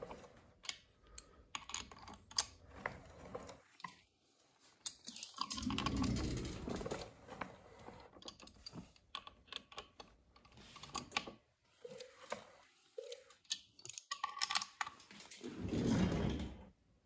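A cutaway two-stroke engine, linked to its oil injector pump, is turned over by hand, giving quiet, intermittent mechanical clicks and soft rattling with brief pauses between movements.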